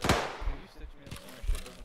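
Gunfire in the military shooter ArmA 3, a few sharp distant shots and short bursts spread across the moment, under low ambient noise.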